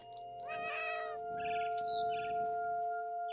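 A cat meows in What Remains of Edith Finch, a few rising, tonal calls over a steady game soundscape with a constant drone, fairly close and clear, with no talk over it.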